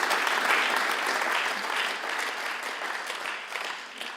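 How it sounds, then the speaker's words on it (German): Sustained crowd applause at a church service in Basel, honouring all mothers on Mother's Day: dense, even clapping from a large audience that holds steady for several seconds, then slowly tapers off. "an alle Mütter zum Muttertag, herzlichen Applaus"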